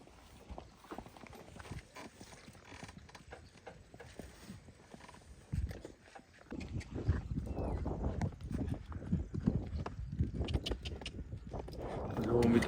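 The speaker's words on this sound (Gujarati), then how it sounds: "જો મિત્રો ઘોડો બે પૈકી હાલે." A horse walks with a steady clip-clop of hooves that grows louder and nearer in the second half, with people talking over it.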